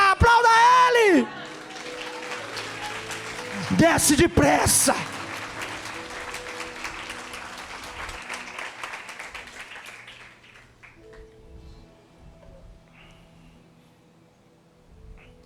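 A church congregation breaks into applause and cheering during a sermon, a loud burst of clapping with whoops that swells around the middle and then fades, while a preacher speaks over it and music plays underneath.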